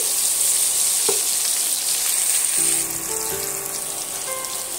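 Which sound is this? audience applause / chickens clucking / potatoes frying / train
potatoes frying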